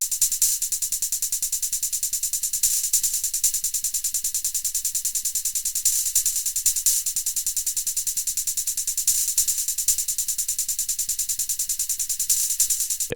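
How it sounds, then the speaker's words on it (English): A fast, crisp hi-hat pattern in a beat ticking continuously, with quick rolls bunching the hits together at points; steady and alone. "Then a hi-hat pattern."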